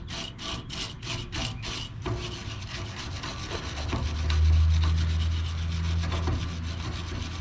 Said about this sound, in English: But good practices would be to get in there with a wire brush. Get any crud off there.